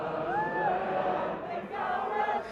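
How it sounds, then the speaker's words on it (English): A large outdoor crowd celebrates the Catalan parliament's vote for independence, with loud sustained cheering, whoops and shouting voices rising and falling throughout. "So the Catalan parliament has voted for independence, and this crowd at least is loving it."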